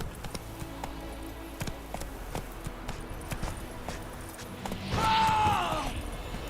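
Roach, the horse in The Witcher 3, gallops with a faint steady run of hoofbeats under game ambience, and then a louder whooshing swell and a brief tonal sound rise near the end.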